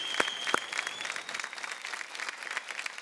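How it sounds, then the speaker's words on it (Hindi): Audience applause for singer Anita at a folk singing reality show, a steady wash of many hands clapping with a couple of sharper claps near the start, moderately loud throughout. "जोरदार तालियां अनीता जी के लिए"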